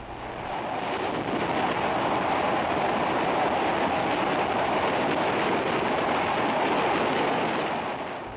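A passenger train on the Dhaka to Mawa line runs over the rails, a loud, continuous rumble and rushing roar heard from on board, with wind noise and no breaks.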